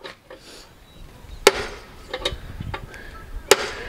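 Two sharp metallic hammer strikes about two seconds apart ring out over low rumbling background noise while fabricating old farm equipment, with a few softer knocks between them.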